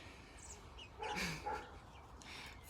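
A dog gives a few faint, short barks and yips in the background of a quiet indoor setting.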